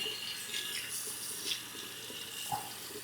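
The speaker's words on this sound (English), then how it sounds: "So I'll turn it on and then just run it under the water" A Philips Norelco Head Shaver Pro 7000 runs under a flowing tap, steady splashing water with a faint motor hum beneath, close and moderately loud, with a brief knock near the end and no talk.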